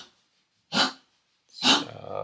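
Dogs squabbling over a lap give two loud, close barks about a second apart, the second trailing into a low rumbling growl.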